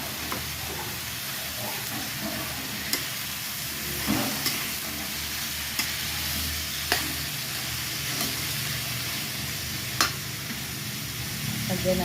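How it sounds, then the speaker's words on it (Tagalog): Sautéed chayote sizzles steadily in a pan while it is stirred, a constant hiss with occasional soft spatula taps, heard close up with no talking. "Haluin lang."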